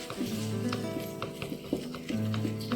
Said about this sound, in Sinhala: මේක අපි හොඳට හැඳි ගන්න ඕනේ